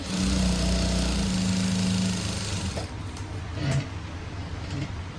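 A sewing machine with a normal presser foot runs at a slow, steady pace, stitching thread piping; its close, even whirring hum fills the first seconds, then eases into quieter, lighter stitching.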